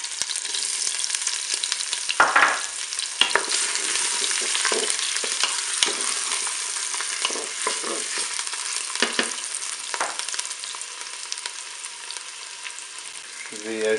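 Onions hit the hot base of a Cookeo multicooker on its browning setting, giving a loud, steady sizzle with scattered clicks of stirring throughout.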